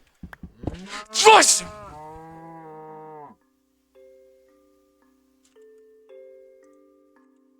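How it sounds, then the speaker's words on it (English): A cow moos loudly and drawn-out in a Minecraft-style video game, one long bellow followed by soft sustained musical tones, with a brief word spoken at the start. "That was a fake cow."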